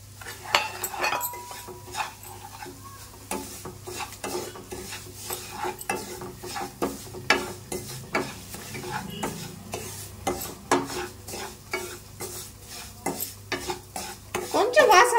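Semolina (rava) roasts in hot oil in a pan, with a gentle sizzle under repeated scraping and clinking strokes of a spoon stirring against the metal, close and fairly quiet, no voices.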